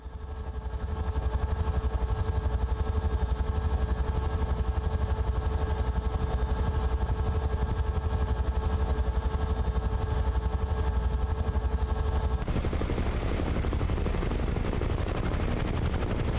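A Huey helicopter in flight over west Ireland, between Ireland West Airport and Ballina, gives a loud, continuous rotor thump and engine roar with no letup, and the tone shifts slightly near the end.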